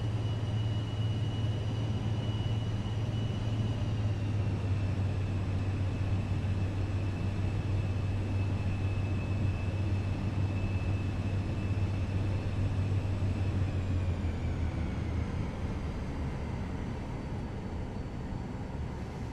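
A Cirrus Vision Jet taxis toward the runway, its steady turbine whine holding a constant pitch over a low rumble that drops away near the end; no one speaks.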